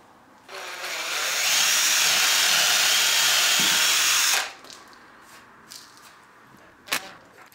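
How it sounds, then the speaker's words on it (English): A power drill whines steadily for about four seconds, loud and close, pre-drilling and driving screws into wood, then stops, followed by a few light clicks and taps. "I'm going to pre-drill them and then drive the screws in."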